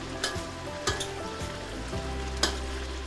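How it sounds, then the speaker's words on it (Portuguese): Stirring sardine cataplana ingredients in a frying pan over a steady sizzle, with three or four distinct scraping sweeps of a utensil against the pan, close up and without speech. "Vou mexer de baixo para cima"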